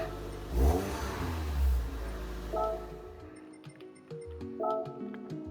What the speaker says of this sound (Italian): E su questa monta il motore Audi R8